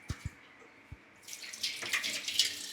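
Water is poured into a dish of small fish being cooked with tamarind, salt and green chillies, a faint hissing splash that builds after a few soft knocks.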